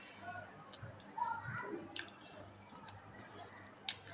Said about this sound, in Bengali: লাল শাক চিংড়ি মাছ দিয়ে লাল শাক রান্না করলাম, সেটা দিয়ে ভাত খাচ্ছি